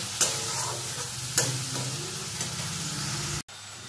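Spice paste of cumin, coriander and dried chilli powder sizzles steadily in oil in a pan, with a couple of sharp scraping stirs and a quick pause near the end.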